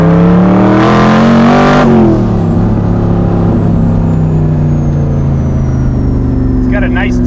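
Old Corvette Stingray with a 1000 HP engine revving loudly nearby, a rising surge in the first couple of seconds that settles into a steady deep idle rumble, with a voice talking over it.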